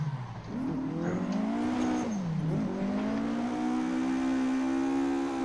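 Ford Escort MK2 in the Assetto Corsa racing game: a steady, loud engine drone rises in pitch, dips briefly around a corner at about two seconds, then climbs and holds under load, with faint tire squeal and no talk.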